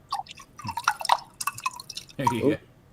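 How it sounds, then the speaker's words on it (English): A half-frozen, chunky drink is poured right beside the microphone, giving close liquid splashes and drips with a thicker gush near the end, while people talk over it. "Pour it right next to the right next to the microphone."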